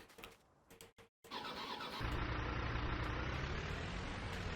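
A tractor-type vehicle engine reverses in Farming Simulator 19. A few soft clicks come first, then the engine swells into a loud steady droning rumble with a thin whine above it that holds to the end.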